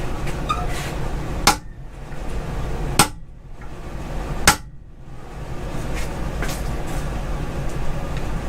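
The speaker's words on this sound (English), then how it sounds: "Use the hammer." A hammer strikes metal three times at even intervals, sharp and fairly close, during the teardown of a Mk1 1.8T engine, set against a steady background hum with no talk.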